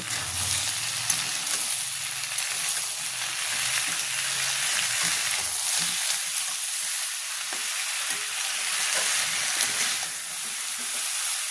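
Kashmiri red chilli powder, ground coriander and ground cumin sizzle steadily in a pan while being stirred, a continuous loud frying hiss with light scraping throughout and no talking.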